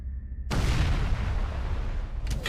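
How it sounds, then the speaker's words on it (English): An explosion in Mass Effect Legendary Edition bursts in suddenly and loudly, followed by a deep, rumbling roar that sustains for about two seconds. "That's an explosion. We just heard an explosion."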